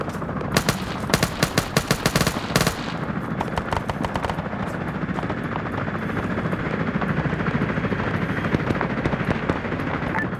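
In a military video game, a helicopter's rotor thrums steadily while bursts of rapid machine-gun fire crackle loudly over it early on, then the rotor drone carries on alone.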